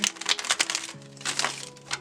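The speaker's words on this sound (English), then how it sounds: "I'm sure you don't want to sit around and watch me shuffle" Rapid crisp riffling and crinkly flicks of tarot cards being shuffled, close up, in quick irregular bursts without any talking.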